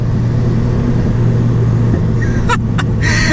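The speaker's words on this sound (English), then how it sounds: "you get a little pop from the exhaust back there every once in a while" A loud Nissan Skyline GT-R R32 engine drones steadily from inside the cabin on a track turn, with a few sharp crackling exhaust pops near the end.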